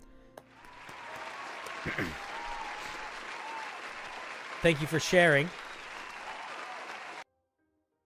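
An audience claps steadily for several seconds, broad and even, before a brief spoken thanks cuts in and the clapping stops abruptly.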